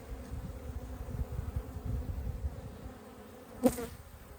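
Honey bees hum and buzz softly around an open hive, a continuous low drone close by with one brief sharper sound near the end.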